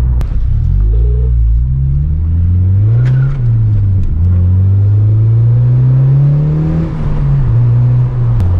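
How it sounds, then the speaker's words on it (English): A 9th-gen Honda Civic Si engine pulls under throttle with VTEC disengaged, a loud in-cabin droning rumble rising and easing in pitch through the gears, steady and unbroken. "Dude, this motor, even without VTEC, goes pretty good, man."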